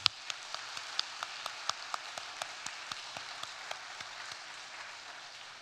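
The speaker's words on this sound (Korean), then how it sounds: "우리 박수 한번, 큰 격려의 박수 한번 쳐주시기 바랍니다." A church congregation claps in encouragement during a send-off worship service for a short-term mission team, scattered sharp claps ringing out one by one at a steady pace, close and distinct.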